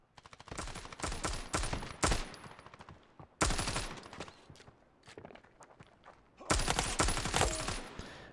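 Gunfire in the mobile shooter game Standoff 2: three loud bursts of rapid automatic fire, each lasting one to three seconds, with quieter footsteps and game sounds in the gaps.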